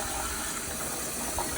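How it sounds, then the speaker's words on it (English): Ordinary tap water runs steadily into a container of cherry tomatoes, a constant close rushing stream with no pauses. "I'm going to soak these cherry tomatoes in our regular tap water."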